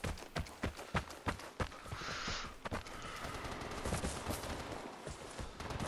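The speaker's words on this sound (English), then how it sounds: "Somebody else is shooting." Gunfire in the PS5 game Vigor: a rapid run of sharp, loud shots opens the moment, then gives way to continuing scattered bursts over a noisy battle background.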